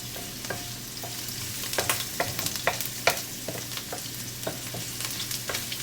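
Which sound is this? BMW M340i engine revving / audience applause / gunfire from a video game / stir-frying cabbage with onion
stir-frying cabbage with onion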